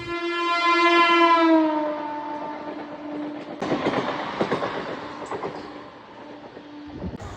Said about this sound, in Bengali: তারপর টুকুর টুকুর করতে করতে আমার বেগুনি কালারের ট্রেনটা চলে এলো।